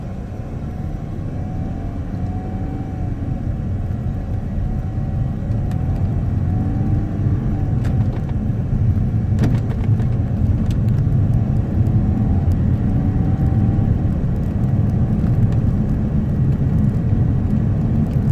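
A Mercedes CLA 220d diesel with its engine warning light on and in limp mode drives steadily in manual with eco drive off, producing a continuous low road and engine rumble that builds slightly and then holds loud throughout.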